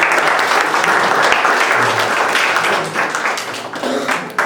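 Loud, sustained clapping from a crowd at a church youth Sunday service fills the room for several seconds, dense and continuous before tapering slightly at the end.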